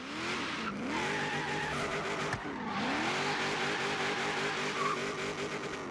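A V8-swapped Honda NSX in Forza Horizon 3 spins out, engine roaring and revving while tires squeal and skid continuously, loud and close throughout with no talking.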